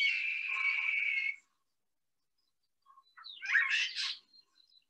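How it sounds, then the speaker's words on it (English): European starling calls: a sustained harsh, buzzy whistling phrase, then a pause and a second burst of scratchy, clicking chatter, fairly close and alone. "So this is what a European starling sounds like"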